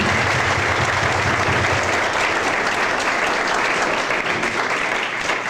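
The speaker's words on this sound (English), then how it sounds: "Let's give them a big round of applause." Sustained, dense applause fills a room at a 2006 high school alumni banquet, steady and fairly loud from start to finish, with no voices standing out above the clapping.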